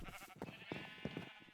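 Red sheep in Minecraft giving a short bleat, a faint quavering call lasting about a second, alone without speech.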